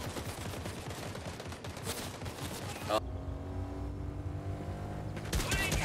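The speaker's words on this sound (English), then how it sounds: "They are shooting at him." Video game gunfire, a dense rattle of rapid shots filling the first half, then a lower mechanical rumble with further bursts near the end, moderately loud and continuous.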